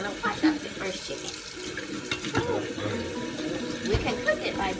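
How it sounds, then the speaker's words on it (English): Tap water running into a kitchen sink while raw chicken is rinsed, a continuous splashing stream with clatter and handling noises, heard under people talking. "gonna wash up the first chicken"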